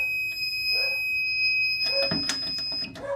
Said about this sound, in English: I can't let the alarms go long because these are actually still very loud, even though I layered them with tape like crazy